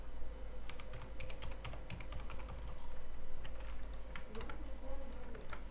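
Keys clatter steadily on a computer keyboard while a job name and date are typed into Adobe Illustrator, with irregular clicks over a low room hum and no voice.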